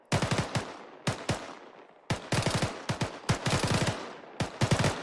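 Rifles fire at army training during 506th OSUT, loud close bursts of rapid shots in quick clusters, separated by brief pauses.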